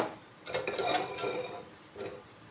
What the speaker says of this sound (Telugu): కుక్కర్ పెట్టుకోవాలి,